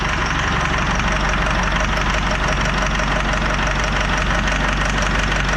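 A Land Rover campervan engine idling close by at a steady, loud, slightly knocking rumble with no change in pace and no talking.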